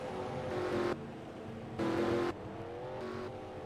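Race cars roar past on the Daytona oval in the NASCAR Racing 2003 video game, engine drones swelling and fading in two louder surges with a steady mechanical hum between them.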